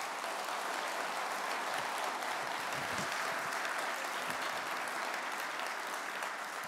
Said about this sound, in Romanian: Să-l aplaudăm pe domnul primar.